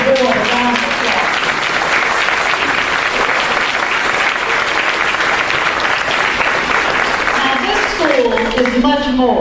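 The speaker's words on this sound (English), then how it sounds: "Let's give the board a round of applause." A crowd at the reopening of Early Childhood Center PS 61 gives the school board a long, dense round of applause, steady and full for several seconds before a voice begins speaking over the tail.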